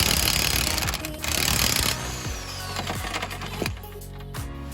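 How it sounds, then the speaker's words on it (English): Metal hammer blows pounding a ground-down nut onto a stuck bolt during an all-wheel-drive swap on an EM2 Civic, several sharp ringing strikes spaced irregularly over steady workshop noise. "So we're gonna pound this on, weld as much as we possibly can around it"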